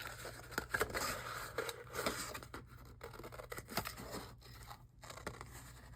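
Scissors cut through paper up close, a steady series of crisp snips and rustling paper crunches for a craft project, with no talking.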